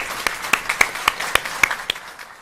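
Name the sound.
courtroom applause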